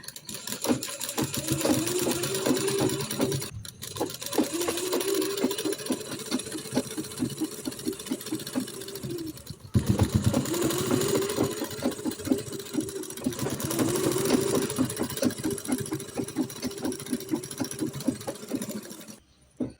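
A sewing machine stitches down folded fabric to form an elastic casing on a prayer dress. Fast rhythmic needle chatter comes in several long runs, with brief pauses between them, before stopping at the end.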